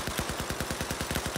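Rapid automatic gunfire in a video game firefight, a fast steady string of about a dozen close, loud shots delivered as suppressing fire.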